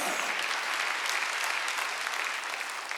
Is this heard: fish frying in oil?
no